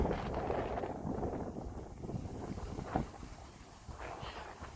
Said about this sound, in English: and it's windy, as you can see. It's windy.